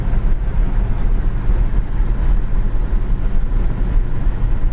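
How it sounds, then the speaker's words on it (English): A 1966 Pontiac LeMans gold sedan kicks down at about 70 mph, its engine note rising as a steady, loud broadband drone mixed with road and wind rush. "We're doing 70, we kick it down."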